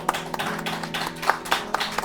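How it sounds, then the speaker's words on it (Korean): A church congregation claps during a worship service, a brief burst of fairly loose, rhythmic hand claps heard at moderate distance in a reverberant hall. "우리 하나님께 영광의 박수 올려드리도록 하겠습니다"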